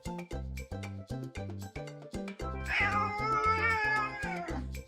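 A domestic cat meows, with a long, drawn-out wavering cry in the middle over a steady, regular pulsing rhythm of short repeated tones that runs throughout, loud and close.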